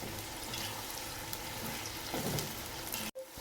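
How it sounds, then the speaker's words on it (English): Finely sliced onions stir-frying in hot oil with whole spices for biryani: a steady, close crackling sizzle with a brief louder burst of stirring near the end before it cuts off abruptly. "Stir-fry the onions"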